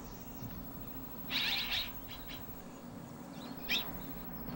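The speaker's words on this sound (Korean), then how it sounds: "어미 물가치는 둥지 안에 있는 새끼에게 먹이를 주지 않는다" Azure-winged magpies at their nest in an early-summer forest, giving two short bursts of bright, scratchy calls over a quiet low rumble of background.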